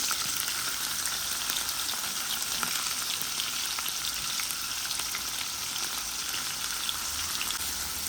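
Cauliflower frying in a pan with onion, garlic paste, salt and turmeric, giving a steady, even sizzle with fine crackles that runs unbroken throughout, close and moderately loud, no talking.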